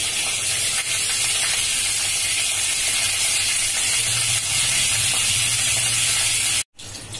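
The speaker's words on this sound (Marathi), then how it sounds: "फोडणी चांगली तडतडली पाहिजे" Steady, dense sizzling and crackling of cumin, fenugreek seeds and curry leaves tempering in hot oil, loud and close, running continuously before cutting off abruptly near the end.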